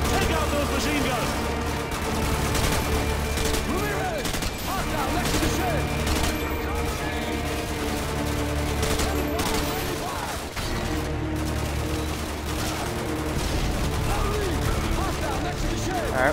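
Sustained automatic machine gun fire and explosions from Call of Duty: Modern Warfare 2 (2009) campaign combat, dense and continuous with a layered battle din running throughout.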